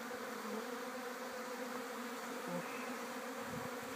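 Honeybees hum steadily around their beehives on a winter day after being fed warm syrup, a close, continuous buzzing drone with no voices.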